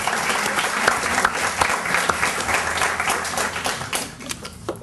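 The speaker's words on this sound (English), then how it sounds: "Can we get a round of applause?" A room full of people gives the deans a round of applause, a dense patter of clapping that swells and then tapers toward the end, with no talking over it.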